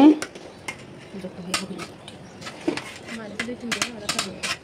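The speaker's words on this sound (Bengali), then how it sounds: "খুব জোরে চুলার জাল, এর জন্য ঢেকে আবার একটু পাতিলটা কাত করে দেওয়া হচ্ছে" A metal pot on a clay stove is covered and tilted, giving scattered clinks and scrapes under a person talking.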